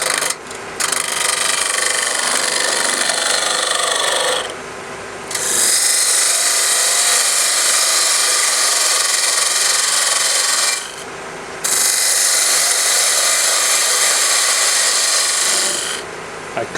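Wood lathe spinning a peppermill blank held in a chuck while a raked skew chisel makes slicing cuts, giving a loud steady rasping hiss in three long passes separated by brief pauses, with no talking.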